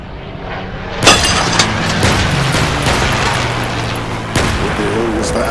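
Air bombs exploding in the video game Red Alliance, a sudden loud blast followed by rumbling, crackling explosions and gunfire-like bursts, with another heavy impact near the end; a voice speaks amid the chaos.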